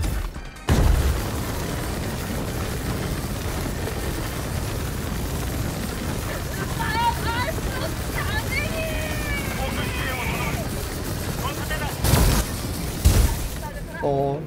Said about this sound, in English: That's a bomb.